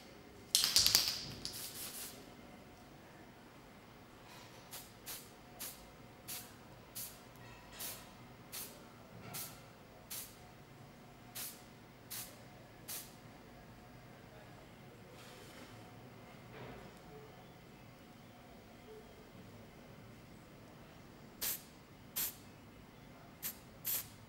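Short hissing bursts from a spray can pre-shading a miniature figure, a long blast at the start followed by a steady series of brief puffs about a second apart, close and fairly quiet, then a few more after a pause.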